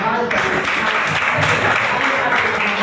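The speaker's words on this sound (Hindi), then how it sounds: "आइए जोरदार तालियों से आह्वान" Applause from an audience at a guru-disciple tradition event, dense sustained clapping that fills the whole moment with voices mixed in.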